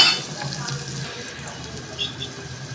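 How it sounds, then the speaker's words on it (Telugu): Onions frying in a pan for puri curry, a soft, steady sizzle with faint stirring clinks, quiet and close, with no talk over it. "ఉల్లిగడ్డలు బ్రౌన్ కలర్ వచ్చేంత వరకు వేయించుకున్నాం"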